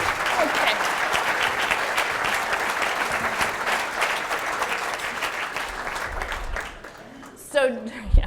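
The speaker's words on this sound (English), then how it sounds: "Everybody will get up and clap at the end, unless you want to do it now." Sustained applause from an audience at an annual dinner, a dense steady clatter of clapping that fills most of the stretch before thinning out, followed by a few brief voices near the end.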